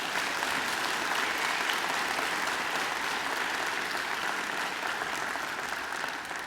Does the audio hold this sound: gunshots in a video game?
no